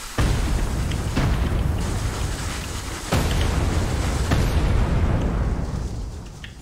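Dynamite thrown in a video game blows up a house, a sustained roaring blast with repeated heavy booms rumbling one after another, loud and continuous with no talking.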